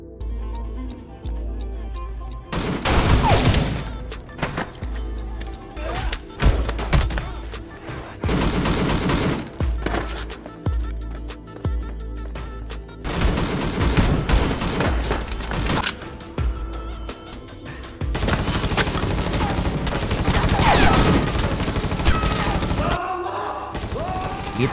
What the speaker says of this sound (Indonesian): tangan kanan Jabal saling adu tembak dengan Kinoy dan kita lihat bersama